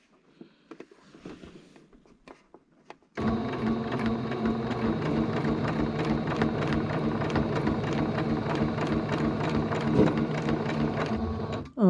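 A sewing machine stitches binding onto a Farmall quilt, starting after a few faint handling clicks, then a steady, rapid mechanical whir with rhythmic needle ticks, close and continuous.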